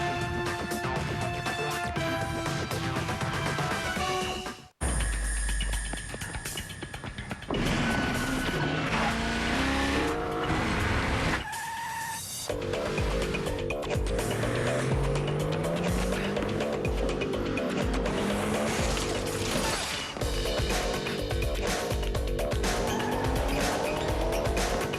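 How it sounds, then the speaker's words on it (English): A 265-horsepower Nissan Maxima drives hard through a loud, busy scene with repeated tire squeals and engine sweeps, mixed with music and effects, with a sudden drop to near silence partway through. "The new 265 horsepower Nissan Maxima"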